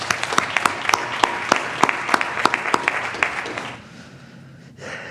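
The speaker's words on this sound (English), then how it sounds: "So can we just give you a round of applause for your work?" Round of applause at a school board of education meeting, steady clapping from a modest group in a room that fades out after about four seconds.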